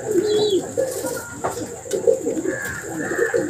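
Roller tumbler pigeon cooing at close range, a few soft throaty coos rising and falling over about three seconds, with faint other bird chirps in the background.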